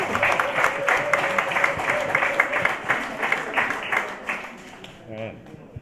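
Audience clapping loudly asking for an encore, rhythmic applause rising and then fading, with a voice speaking over it near the end.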